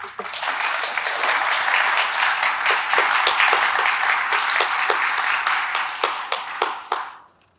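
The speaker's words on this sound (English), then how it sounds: "let's give them a big round of applause over here" An audience at a registry unveiling ceremony gives the design team a sustained round of applause, a full crowd of clapping hands with a few distinct near claps, fading out at the end.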